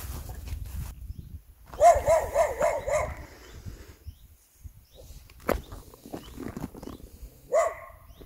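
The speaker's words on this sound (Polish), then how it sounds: "ale te dwa psy nie chcą mnie przepuścić." Two dogs on a mountain trail in the Bieszczady bark in short bursts, a cluster of several loud barks followed by a single sharp yelp and one more bark a few seconds later, close by, with faint footsteps and outdoor noise between.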